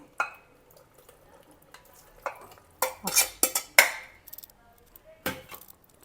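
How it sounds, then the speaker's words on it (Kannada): Cooked wheat dumplings are stirred into jaggery syrup in a pot, making scattered close clinks and scrapes of a utensil against the pan, with a cluster of louder knocks midway and quiet gaps between. "ಸೊ ಹಾಕ್ಕೊಂಡು ಸ್ವಲ್ಪ ಕಲಿಸ್ಕೊಳ್ಳೋಣ."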